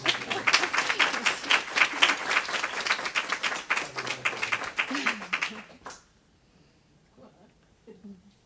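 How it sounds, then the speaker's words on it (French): Audience applause fills a room for about six seconds: dense, steady clapping from many hands that stops abruptly, leaving near-silence with a few faint sounds. "c'est bien qu'on t'applaudisse."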